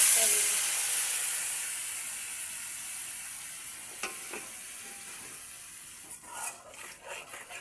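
Salt, pepper, cumin paste and garlic paste sizzle and hiss loudly in a hot pan as the fish curry base is sautéed, the frying fading gradually before sharp stirring scrapes and clatters near the end.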